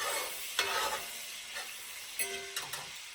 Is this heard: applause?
no